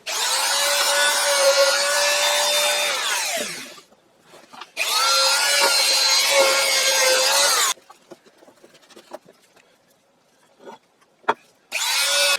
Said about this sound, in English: just going to get it here with a little buffer